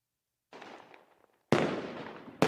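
Fireworks bursting in two bouts, a softer crackling burst followed by a louder, dense volley of bangs and crackle, with no talk over them.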